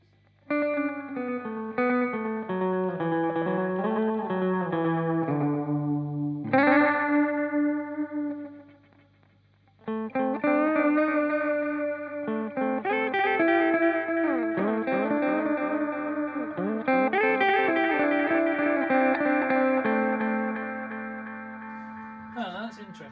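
An electric guitar runs through a tape echo pedal modelled on the RE-20, each note repeating and trailing off in warm, smeared repeats, with a short pause partway through.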